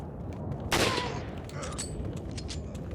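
A single sharp rifle shot in Resident Evil 4 cracks loudly and close, then rings off into a dense background of game noise and rumble.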